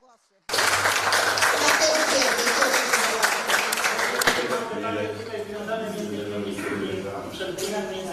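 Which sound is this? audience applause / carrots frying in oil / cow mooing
audience applause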